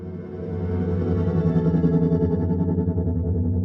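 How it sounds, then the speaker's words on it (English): A harp sound processed with Eventide H90 effects pedal textures forms a swelling, warbling, chorus-like drone with distorted, pulsing layers, steady and moderately loud with no voices. "And you'll also hear some other H90 textures within that sound."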